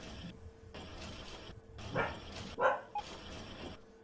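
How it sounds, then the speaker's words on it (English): A dog barks a few times in short bursts from the middle distance, heard alone over a steady background hum. "the dog's going off"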